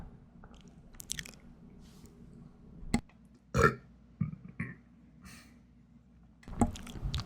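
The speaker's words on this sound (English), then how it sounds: "Damn, just burped" A single loud burp rises briefly out of quiet room noise, surrounded by a few small mouth clicks and wet smacking sounds.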